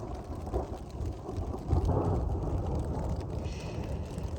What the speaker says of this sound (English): That's Colorado thunder.